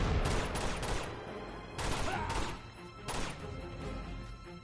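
Video game gunfire in Uncharted 2 during a firefight with grenades: several loud bursts of shots, separated by short gaps and set against a noisy battle backdrop.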